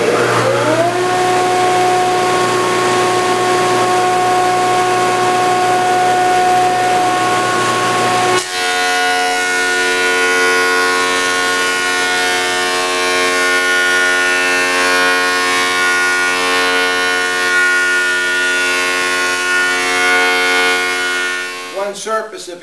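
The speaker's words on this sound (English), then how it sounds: "One surface of each plank is now true using the jointer" A jointer planes heavy lumber planks in a shop with dust collection running, giving a loud, steady machine whine with strong tonal hum that holds throughout and shifts partway as a plank passes over the cutter.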